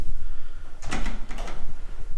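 Elevator doors in an abandoned mansion are tried but do not open, giving a short rattling clatter of a few metallic knocks over a steady low hum.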